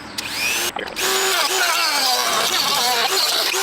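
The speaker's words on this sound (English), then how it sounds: "Also found the Dremel works a little bit easier." A Dremel rotary tool whines steadily at high speed while cutting plastic motorcycle bodywork, loud and close, with a brief dip in pitch partway through as the bit bites into the material.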